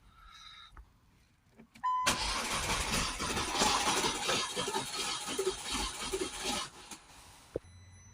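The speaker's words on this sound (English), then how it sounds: "what I'm going to do is turn the engine over" A Ford S-Max 2.0 TDCi diesel engine, injector removed, cranks over with a loud, steady whirring churn for several seconds, then cuts off abruptly, followed by a faint click.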